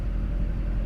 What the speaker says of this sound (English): We got the truck back and running. Sounds like it's supposed to. No more clanky clank.